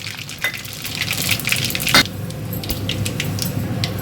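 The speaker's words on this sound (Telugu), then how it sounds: "మాడిపోతుందేమోనని నేను గ్యాస్ ఆఫ్ చేసి తాలింపు వేసానండి" Mustard and cumin seeds sizzle and crackle as a tempering in a steel pan, a steady close hiss with scattered sharp pops and one brief louder crackle midway.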